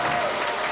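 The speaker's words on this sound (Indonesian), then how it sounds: "Tepuk tangan." Audience applause at an Islamic tabligh akbar gathering, a steady dense wash of clapping from a crowd, loud and continuous throughout.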